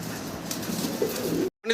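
Pigeons cooing on a rooftop pigeon farm, a steady low murmur of soft coos close by, ending in a brief silence before more sound resumes.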